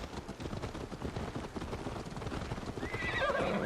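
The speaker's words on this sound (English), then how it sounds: "All you bitch-ass horses better wait for me." In a video game, a horse's hooves clip-clop steadily and closely, and a high whinny breaks out near the end.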